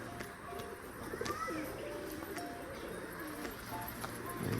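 Domestic pigeons coo in soft, rolling phrases close by, over a steady outdoor background hum with occasional faint knocks.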